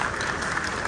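A crowd at a handover-of-office ceremony in Alanya breaks into brief, dense applause, steady clapping heard close and evenly throughout.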